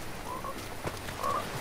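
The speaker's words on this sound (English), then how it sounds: "It's a frog bomb." A frog bomb in the video game Fortnite croaks with short, throaty calls over a busy game background.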